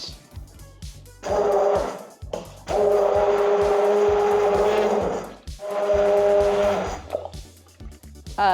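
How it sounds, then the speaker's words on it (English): A hand blender purees potato leek soup for vichyssoise, running in loud whirring bursts with short pauses between them and no talk. "I have a nice hand blender, so we're gonna do that."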